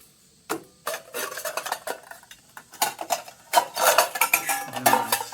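A lightweight stainless steel camping skillet and plate are handled, producing scattered metallic clinks, scrapes and rattles in quick irregular bursts, close and fairly quiet, with no talk.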